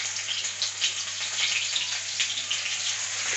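Onions sizzle steadily in hot cooking oil in a home kitchen, a dense, even frying hiss that stays loud and constant throughout with no pauses.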